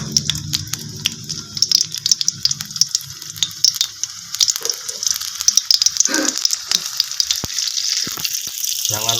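Ingredients for mushroom meatball soup are stir-fried in a pan, with a steady loud sizzle and bursts of rattling scrapes as they are tossed and stirred.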